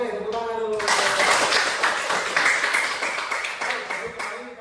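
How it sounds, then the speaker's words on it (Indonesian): Students in a classroom clap together after a lesson point, a short burst of clapping that swells quickly and fades after a few seconds, with a voice heard briefly before it starts. "Oke, tepuk tangan dulu."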